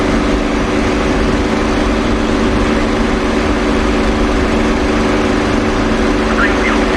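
Propeller aircraft engine running at full throttle in a WWII-style flight simulator game, a steady loud drone with low harmonic hum throughout, no pause or break.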